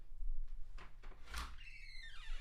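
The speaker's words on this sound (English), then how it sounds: "Let me leave that door open in case the dog needs to come back in." A door swinging open indoors: a short, close thump followed by a rising squeak, over a faint steady room hum, with no talking.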